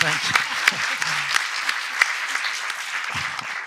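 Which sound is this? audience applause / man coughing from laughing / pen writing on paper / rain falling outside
audience applause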